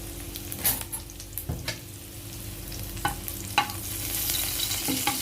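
Garlic is sautéed in a pan, with a soft sizzle that swells toward the end and sparse, sharp clicks from a utensil stirring.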